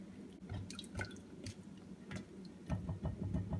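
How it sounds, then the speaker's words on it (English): Bread soaked in syrup drips and squelches softly in small irregular wet taps and splats, close and faint, while capirotada is being layered, with no talking. "So you dip the bread in the syrup"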